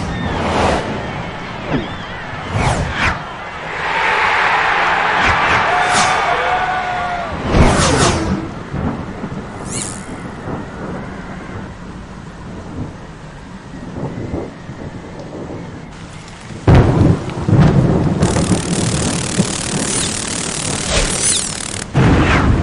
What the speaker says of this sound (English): the following morning was stormy and foul